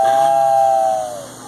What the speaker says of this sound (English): housing the steam whistle from 1950